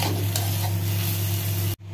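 Vegetables frying in a pan make a soft, continuous sizzle over a steady low hum, which cuts off abruptly near the end.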